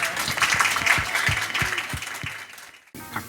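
An audience applauding at a community piano recital event, dense clapping with a few louder nearby claps, fading out toward the end.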